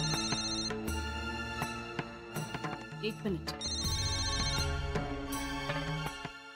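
A telephone rings with a melodic ringtone inside a home in a Marathi TV serial, the tones repeating steadily and clearly while people talk over it.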